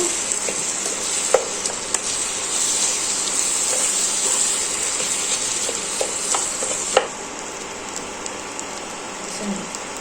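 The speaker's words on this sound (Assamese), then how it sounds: "গুড়খিনি এড কৰি ধুনীয়াকৈ লৰাই লৰাই ভাজিব লাগিব" Continuous sizzling of jaggery and olive pickle frying in a pan, with occasional scraping clicks of a spatula stirring; the sizzle drops slightly toward the end.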